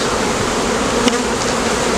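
A rescued swarm of honeybees hums steadily around a hive frame, a dense, continuous close-up drone with no pauses and a small flicker of a single bee passing near the middle.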